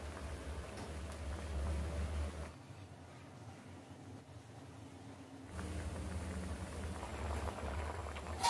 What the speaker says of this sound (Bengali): জলটা ফুটে এসছে, আমি এটাকে আরো 20 থেকে 30 মিনিট ফুটতে দেব, যতক্ষণ না পেয়ারা গুলো পুরো গলে যাচ্ছে।